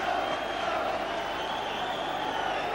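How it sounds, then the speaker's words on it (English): A massive football stadium crowd at a 1983 Dundee versus Dundee United match roars as one continuous, dense wash of noise that holds steady and loud throughout. "A really massive crowd in here, making a tremendous noise."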